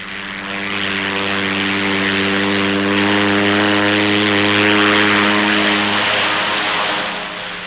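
A propeller-driven charter plane flying in wartime Laos, its engines droning loud and close with a steady harmonic hum that swells slightly in the middle and eases off toward the end, with no voices.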